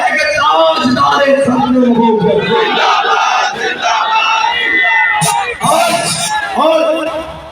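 A large crowd at a Saad Rizvi rally in Lahore roars a slogan in unison, loud and close, with the chanting swelling and dipping in waves over several seconds.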